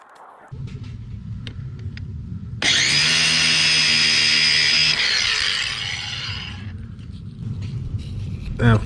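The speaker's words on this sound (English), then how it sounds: "using a cutting wheel to try to cut those." Cutting wheel grinding through sprinkler pipes outdoors. A loud, steady high whine runs for about three seconds under a low rumble, then winds down as the motor keeps droning close by.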